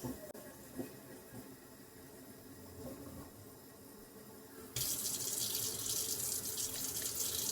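Warm water pours steadily from a tap for sourdough bread dough, starting as a soft trickle and then turning into a louder, hissing rush midway.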